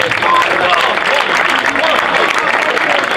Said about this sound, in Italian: applausi, applausi